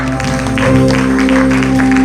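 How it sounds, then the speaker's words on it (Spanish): A church congregation applauds during a Spanish-language worship service, with steady clapping blended with sustained organ or keyboard tones and a few voices underneath. "dale un fuerte aplauso"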